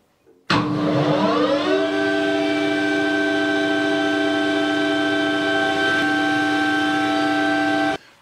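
Lathe spinning up to 1300 RPM while turning a castor wheel, a steady loud motor whine with rising tonal hum that settles into a constant pitch, running alone until it stops abruptly.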